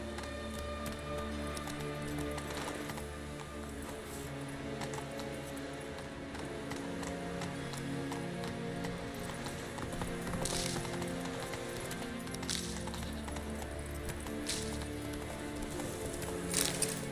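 Horse hoofbeats galloping in The Witcher 3, a steady clip-clop rhythm running throughout under a dense game soundscape with music, moderately loud and continuous.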